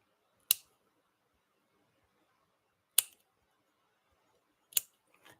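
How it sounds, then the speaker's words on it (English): Three crisp, separate scissor snips cutting fly tying materials while tying a classic Wild Irishman salmon fly, spaced a couple of seconds apart in a quiet room with no talk. "So I start to cut things."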